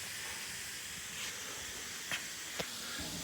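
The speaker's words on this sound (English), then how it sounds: "That cooling fan's really loud, but kind of cool." The cooling fan on a V4 motorcycle runs loudly, producing a constant close, broad hiss and whoosh that holds steady throughout, with a couple of brief faint clicks and no voices.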